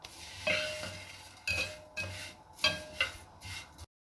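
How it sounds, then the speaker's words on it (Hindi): Seviyan vermicelli roasting in a pan over low heat, heard as soft intermittent scraping and stirring bursts with light metallic clinks and faint sizzle, several short strokes spaced about half a second apart, close and fairly quiet. "सवैयाँ मैं हल्की आंच पे भून रही हूँ ताकि जल ना जाए।"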